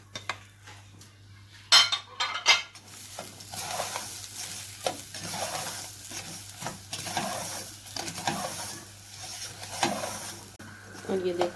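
Ground coconut roasts in a pan for sweet samosa filling, with a spoon scraping and clinking against the metal in irregular strokes over a soft, steady sizzle, close by and fairly quiet.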